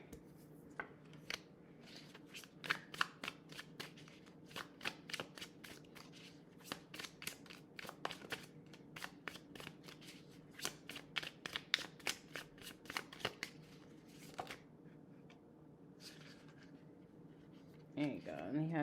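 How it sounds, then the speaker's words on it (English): Tarot cards shuffled and drawn by hand, a long run of sharp papery riffles and flicks in irregular bursts, close and crisp, with a person talking softly underneath. "I'll pull 3 more cards."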